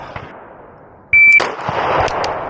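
Beretta PX4 Storm G-SD pistol fitted with a VPArmory compensator fires a sharp, loud shot partway through, with a high electronic beep from a shot timer at the moment of firing.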